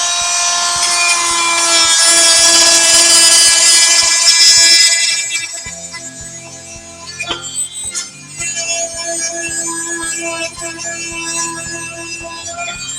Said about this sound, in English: I just wanted to demonstrate here how effective this Dremel tool is.